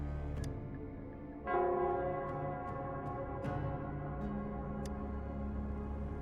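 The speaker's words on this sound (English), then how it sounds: "it's the Nell Squares bell." A bell in the Wuthering Waves game rings out with a sudden resonant strike after a quieter opening, then rings on in a sustained, shimmering tone. A few faint clicks sit over a low, steady ambient hum.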